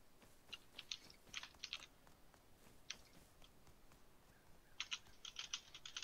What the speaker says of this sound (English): That was me typing launch site.